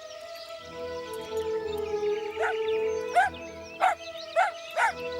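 A cartoon dog barks a handful of times in short yapping bursts over steady background music, the barks coming in the second half at fairly regular intervals and standing out moderately loud.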